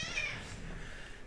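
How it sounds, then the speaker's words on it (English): Short cat meow, a single rising-falling cry up close, fading into faint background noise. "Smart kitty. Meow."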